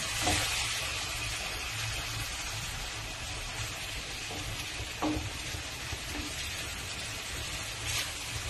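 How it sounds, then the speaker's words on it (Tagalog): Glutinous rice fries in a pan as mushroom broth goes in, giving a soft, steady sizzle with occasional stirring scrapes and a few crackling pops, and no voices. "Ilagay natin itong ating sabaw ng mushroom."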